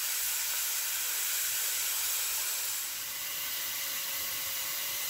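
Namkeen gosht mutton cooking covered on medium heat, a steady bright steamy hiss that stays even and fairly loud from start to finish with no voices.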